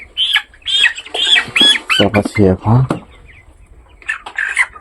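A 23-day-old broiler chicken squawks loudly and repeatedly while being caught by hand for weighing, its cries close and harsh over someone talking.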